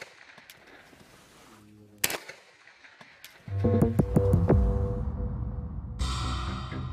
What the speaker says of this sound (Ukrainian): Порівняйте з пострілом без глушника.